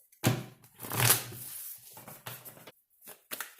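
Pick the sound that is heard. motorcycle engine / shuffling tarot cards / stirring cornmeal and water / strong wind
shuffling tarot cards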